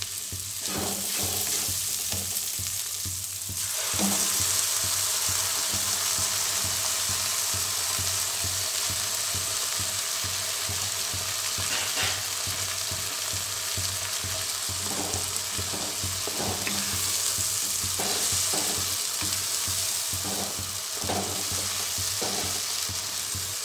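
Ginger, garlic and green chilli paste fries steadily in hot oil in a pan for a Jammu-style rajma, a continuous close sizzle broken now and then by the clatter of stirring, with no talk.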